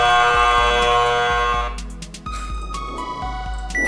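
Electronic buzzer tones from a marble video game under test repeat in quick succession, layered with steady tonal game sounds and sharp beeps, loud and close.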